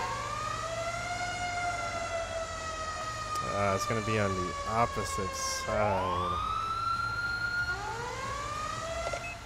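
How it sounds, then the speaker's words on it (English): Wailing emergency sirens from a vehicle in GTA 5, rising and falling in pitch and changing pattern partway through, loud and close, with someone talking over them. "I don't know why my sirens are switching by themselves."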